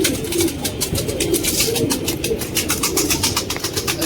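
Pigeons coo in a steady, continuous stream of soft repeated calls, close by and fairly loud throughout, with no talking over them.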